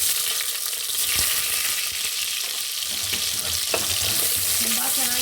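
Cloves, a bay leaf and onion fry in hot oil for biryani, giving a steady, loud, close sizzle that runs unbroken, with a few soft clinks from the pan.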